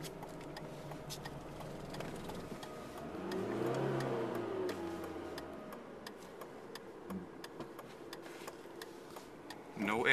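A car engine hums in the background and swells as it revs up, then settles back down, with faint ticking and scattered noises over it.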